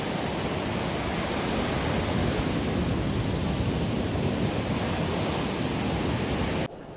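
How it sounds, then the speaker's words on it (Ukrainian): Storm waves pound the rocks at Sanzhiika beach, a loud, unbroken roar of surf and spray filling the whole stretch before cutting off abruptly near the end. "Хвилі б'ють прямо по скелям."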